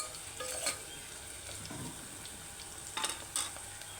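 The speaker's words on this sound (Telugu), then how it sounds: "ఆనియన్స్ అయితే ఇట్లా నార్మల్గా ఫ్రై చేసుకుంటే సరిపోతుంది" Onions frying in a pan for a Telugu ridge gourd curry cooked in a pressure cooker: a soft, steady sizzle with brief louder stirring scrapes near the start and again near the end, close by with no talk.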